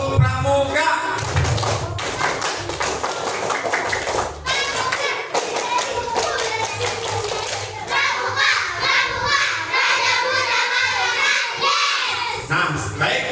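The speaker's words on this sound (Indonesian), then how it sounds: "Dua kali tepuk pramuka." A school class does the Pramuka scout clap twice, rhythmic group hand claps and thumps in patterned bursts, with children's voices and shouts mixed in.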